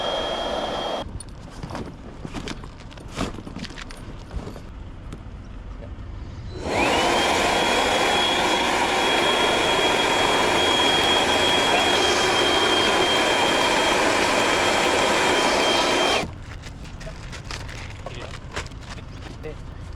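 An air pump inflating an inflatable bed aboard a 6.6 m boat starts up as a loud, steady whine and roar, runs for about ten seconds and then cuts off, with background clatter before and after.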